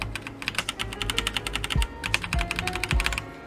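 Keys on an E-YOOSO K-620 mechanical gaming keyboard with brown switches clack rapidly and irregularly up close, with a few heavier thumps among the steady typing and no voices.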